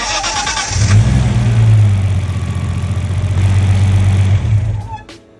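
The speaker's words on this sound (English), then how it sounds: "There's a bit of a harmonic vibration at certain revs." A 500 hp Nissan R32 engine runs close and loud with a steady low drone for several seconds, then shuts off and falls quiet near the end.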